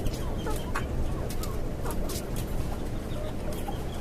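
Native desi and tiger chickens on a rooftop farm cluck continuously, a busy flock of overlapping short calls, close and fairly loud, with a faint voice now and then underneath.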